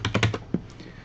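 Keystrokes on a computer keyboard while entering product codes in retail management software: about five quick, close taps in a burst, a short pause, then one more key press, fading to quiet.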